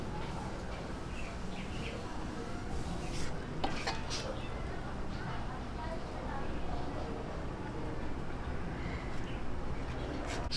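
Pork salpicao is moved onto a serving plate, with soft clinks and scrapes of utensils and dishes over a constant background hum, as a person talks throughout and birds chirp faintly nearby.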